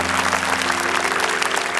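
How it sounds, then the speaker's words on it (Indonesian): Loud, dense audience applause in a studio, continuous clapping from a crowd with a steady low hum underneath. "Kita berikan tepuk tangan untuk Tasya."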